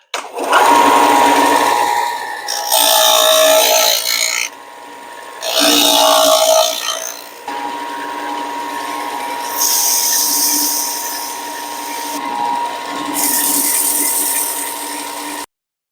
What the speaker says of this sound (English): So we're over at our belt sander and our disc sander.